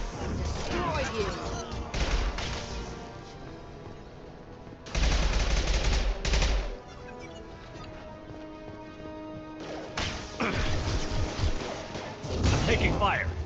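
Gunfire in the video game Mass Effect 2, with loud bursts of rapid automatic fire and heavy shots in several sustained volleys, under a continuous game soundtrack and effects.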